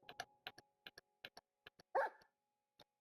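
A dog in the Minecraft video game barking in a string of short, sharp yaps with gaps between them, plus one longer whimpering yelp near the middle, clear against a quiet background.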